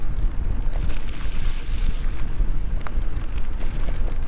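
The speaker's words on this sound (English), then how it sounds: "A headwind going uphill." Steady broadband wind roar buffets the microphone on a bike ride through the Deerness Valley, cycling uphill into a headwind, loud and continuous with rumbling low gusts and no talk.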